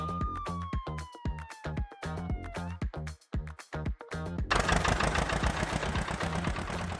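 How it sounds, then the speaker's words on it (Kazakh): An ambulance siren wails and slides downward over a steady, rhythmic engine chug, then gives way to a dense, continuous rush of noise near the end. "Жедел жәрдем көлігі."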